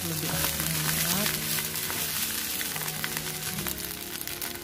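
Fried rice with soy sauce being stirred in a pan, giving a continuous close sizzle and frying hiss with soft scraping of the spatula throughout.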